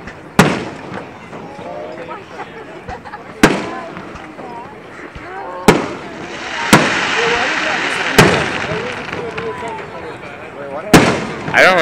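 Fireworks display bursting at the 2010 Racine show, with loud booming explosions every couple of seconds over a continuous crackle and rumble, while people talk nearby.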